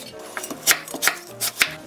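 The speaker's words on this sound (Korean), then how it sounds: "1cm 두께로 이렇게 썰어주세요." A knife slices apple and onion into 1cm-thick pieces on a cutting board in a quick series of sharp, close thunks, about six cuts at an uneven rhythm.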